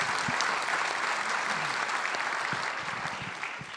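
Sustained applause fills a conference hall after a plastics panel, many hands clapping in a thick, steady patter that eases slightly toward the end.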